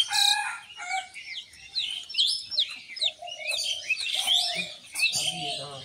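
Morning chorus of ducks and chickens let out on a farmyard: overlapping clucks, squawks and a rooster crow, close and busy, with some calls loud and others fainter.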